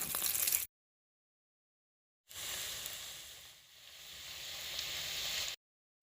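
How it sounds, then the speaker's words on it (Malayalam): Chicken frying in hot oil, a soft steady sizzle and hiss heard in two separate stretches with silence between, faint and close with no talk. "ഇനി ചൂടായ എണ്ണയിലേക്ക് ഇതൊന്നിട്ട് ഫ്രൈ ചെയ്തെടുക്കുക"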